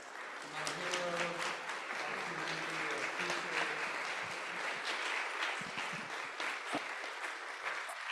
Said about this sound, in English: Let's give a big round of applause to my hero